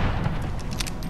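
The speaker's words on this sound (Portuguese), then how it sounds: "ele acertou o tiro, mas não matou" Gunfire in the turn-based strategy game XCOM: Enemy Unknown, a short cluster of booming shot impacts over a dense game soundtrack, lasting about a second.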